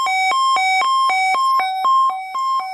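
A Sangean CL-100 weather radio siren test alert pulses in rapid, even beeps, two alternating pitches, loud and close with no talking.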